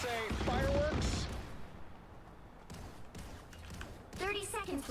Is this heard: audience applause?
no